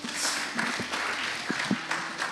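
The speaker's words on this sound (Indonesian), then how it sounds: "tepuk tangan untuk kelompoknya Aris" A youth church gathering gives a group a short burst of applause, a roomful of hands clapping in a brief, dense wash with scattered sharper claps.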